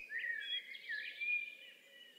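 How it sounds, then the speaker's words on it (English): Birds sing a dawn chorus by Loch Garten: overlapping high chirps and warbled phrases, continuous and moderately faint, with no talk. "it's the perfect place for us to listen for the dawn chorus."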